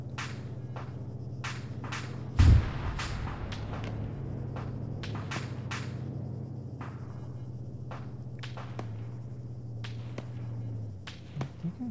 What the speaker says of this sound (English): Some shots from somewhere, but I can't fucking see.